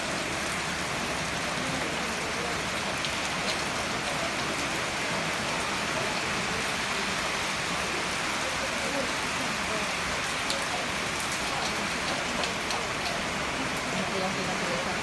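Rain falls steadily outdoors at a graduation venue, a dense unbroken hiss at moderate level with scattered drop patter throughout the whole stretch.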